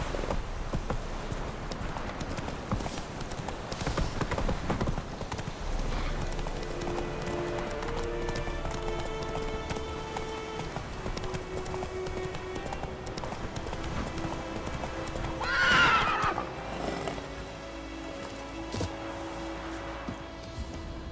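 Roach, Geralt's horse in The Witcher 3 on PS4, running with steady rhythmic hoofbeats, close and continuous over game music, with a short whooshing burst late on.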